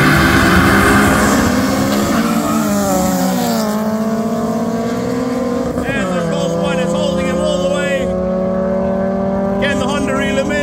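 A Mk1 Golf with an aspirated engine and a Honda VTEC car race from a standing start, engines revving hard through rising and shifting gears, loud and close throughout.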